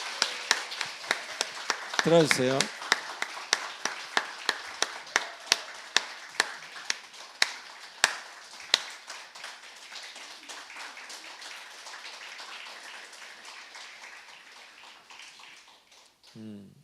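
A church congregation claps for a newly ordained deacon during a Korean worship service: a burst of scattered hand claps that thins into a steady patter, with a voice speaking briefly near the start and again at the end.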